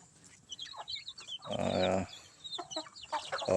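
Chickens clucking and cheeping nearby, a mix of short high peeps and one louder, fuller cluck in the middle, steady and close with no talk.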